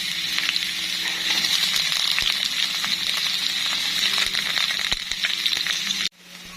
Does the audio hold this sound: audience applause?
no